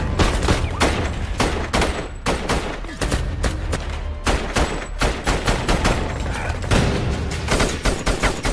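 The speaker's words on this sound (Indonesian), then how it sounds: "Di tengah kontak senjata yang terus berkecamuk" A firefight with rapid, overlapping bursts of gunfire, loud and close, firing in irregular volleys from start to finish.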